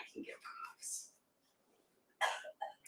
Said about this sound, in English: By the way, I fake cough.